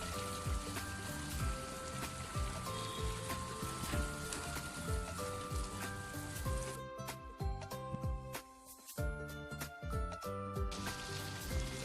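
Sundal chickpeas with ground coconut masala simmering at a light boil in a pot, a soft continuous bubbling and popping that runs steadily, briefly thinning out partway through, with no voices.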